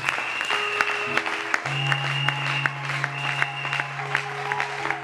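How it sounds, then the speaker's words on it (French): Church congregation applauding at a religious gathering in Brazzaville, a steady loud clapping wash with sharp hand-clap transients throughout, plus a sustained organ-like tone underneath. "Est-ce qu'on peut acclamer la parole de Dieu?"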